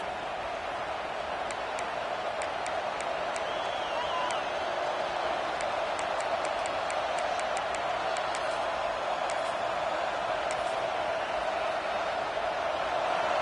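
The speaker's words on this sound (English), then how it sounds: "this crowd trying to help keep them there" A stadium crowd in the College Football 26 video game sends up a constant roaring wash of noise, loud and unbroken throughout, with faint clicks and a commentator's voice under it.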